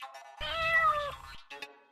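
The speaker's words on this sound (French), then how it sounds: "Enfin, tu verras un chat qui te crèverait les yeux." Cat meowing once, a single close, clear drawn-out meow followed by a brief softer trailing sound, heard alone without talking.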